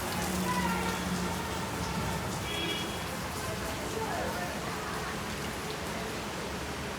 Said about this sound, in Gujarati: વરસાદ જો ધોધ માર પડે છે